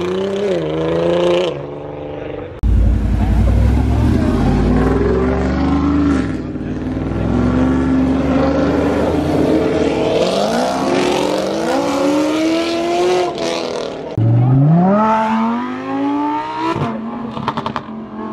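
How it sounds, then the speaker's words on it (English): Supercars accelerate hard past a car show, engines roaring with rising revs and repeated upshifts, loud and close as several cars pull away one after another. "The supercars know how to send it up here."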